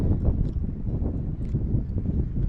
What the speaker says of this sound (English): So, yeah, it's plenty windy.